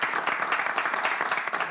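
A studio audience on a television quiz game show claps for a contestant in a short, dense burst of applause.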